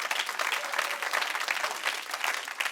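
A church congregation applauds during a sermon, a dense, even patter of many hands clapping at moderate volume that continues steadily throughout, heard from some distance.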